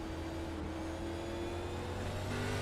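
Onboard sound of a Cup Series stock car in iRacing at Martinsville: a loud, steady engine drone holding one pitch, with a slight shift near the end and no voices.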